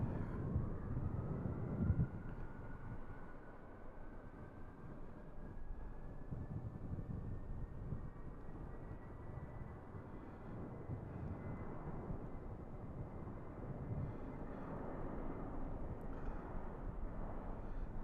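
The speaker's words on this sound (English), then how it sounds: "Nice sounding departure." An Airbus A300 takes off from Raleigh-Durham airport, a distant steady jet roar with a slowly rising engine whine, heard faintly under wind rumble.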